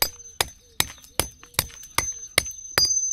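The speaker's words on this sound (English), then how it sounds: "a cold chisel and a lump hammer" A lump hammer drives a cold chisel into the soft bottom of a garden pond, giving about eight sharp, ringing metallic strikes at an even, unhurried pace, each one close and crisp.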